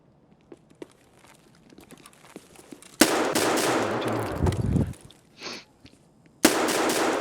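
Pistol gunfire in the shooter game Escape From Tarkov comes as dense, loud bursts of rapid shots, with quieter scuffs and footsteps before them and a short gap mid-way.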